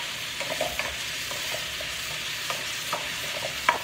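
Potatoes, carrots and busa fry together in a pan for Salona Marag while a spatula stirs them, giving a steady low sizzle broken by irregular scraping clicks and taps.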